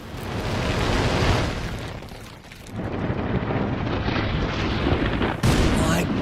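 Huge cosmic explosion of a second Big Bang, a sustained roaring blast with rumbling that dips briefly midway, then swells again with a sharp burst near the end, loud and close throughout.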